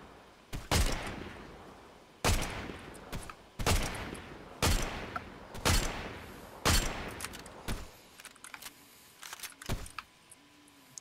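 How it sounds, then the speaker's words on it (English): Gunfire in a battle royale video game, a series of sharp shots in bursts, some near and some farther off, spaced irregularly across the clip, with no voices. "I see firing up ahead."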